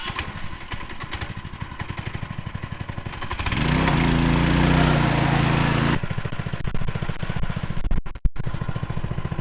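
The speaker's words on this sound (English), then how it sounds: "I'm gonna have my kid take his go-kart around the house." A child's go-kart drives around a house, its small engine buzzing in a rapid putter that swells louder as it passes close, then drops back to a rougher, steady drone.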